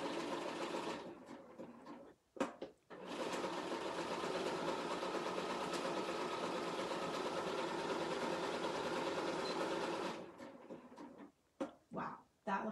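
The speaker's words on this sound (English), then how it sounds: "sew at a medium speed." A BERNINA 480 sewing machine runs decorative stitches with a double needle at medium speed, a steady close mechanical hum lasting around eight seconds, with brief handling clicks and knocks before and after.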